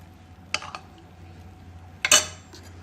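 A spoon clinks twice against a metal pot while yogurt starter is stirred into milk, two short bright scrapes and taps separated by a quiet pause, close and with no talk.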